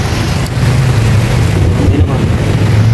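A salvaged engine runs steadily while it is checked, giving a loud, close, low droning hum with no break.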